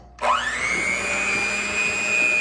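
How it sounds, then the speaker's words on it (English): A kitchen mixer with a dough hook starts up abruptly to mix homemade pizza dough, its motor whine rising quickly and then holding a steady, loud, close hum with a low churning rumble underneath. "So now I'm going to start mixing my dough"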